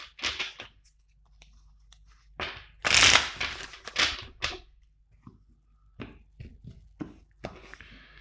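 Tarot cards being shuffled by hand at close range, a run of crisp riffling bursts and soft slaps in uneven rhythm with brief pauses, the loudest flurry in the middle, no talking.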